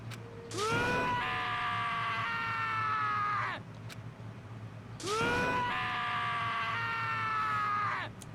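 Taka, a character in the video game Danganronpa, lets out two long, anguished wailing screams, each several seconds long and separated by a short pause, loud and close.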